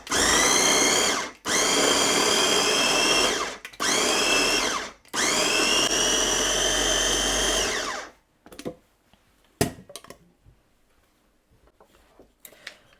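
A food processor motor whirs loudly as it chops greens, running in four steady bursts with brief gaps, then stopping, followed by faint clicks and clatter of the machine.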